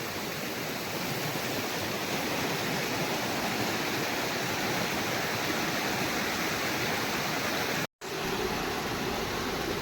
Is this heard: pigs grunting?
no